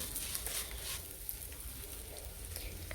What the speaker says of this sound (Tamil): பூண்டும் ஒரு ரெண்டு மூணு நிமிஷம் நல்லா வறுபடணும்